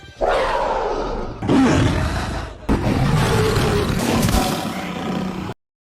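A series of big cat roars produced as cinematic sound effects: three loud, deep, growling bursts follow one another closely with no talk, then cut to sudden silence.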